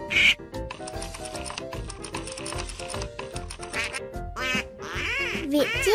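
Cartoonish duckling quacks in a children's story, several short bright quacks mixed with music and sound effects, with a voice heard alongside.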